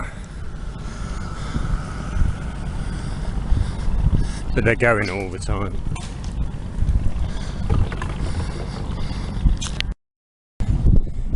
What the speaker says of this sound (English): That's the ferry coming in now.